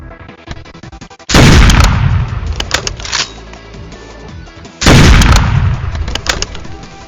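Gunfire bursts from a Roblox Hypershot match, two loud onsets each followed by a few seconds of sustained shooting and rattling impacts, with quieter game sounds between.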